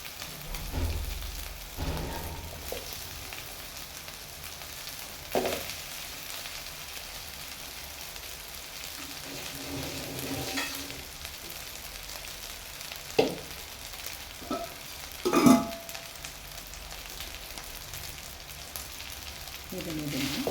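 Cooked rice and vegetables for chitranna are being stirred and mixed in a pan, giving quiet scraping and shuffling with occasional louder clinks and scrapes of the spoon against the pan.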